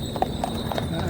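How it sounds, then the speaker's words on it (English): Horse hooves clopping on a ride along a coastal walk between S Illot and Cala Millor, Mallorca, a few regular hoof strikes under steady outdoor background noise and a voice. "here, horse rides, loads of horse rides"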